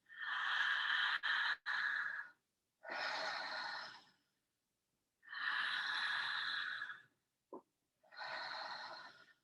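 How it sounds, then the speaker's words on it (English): Slow, deep breaths in and out, each long airy rush lasting a second or two and separated by quiet pauses, close and soft with a brief faint click between breaths. "And hear my breath."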